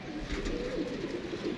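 A female pigeon coos softly at close range in a short, low, throaty murmur that stands alone without any talk.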